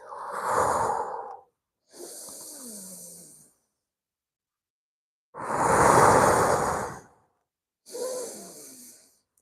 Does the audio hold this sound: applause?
no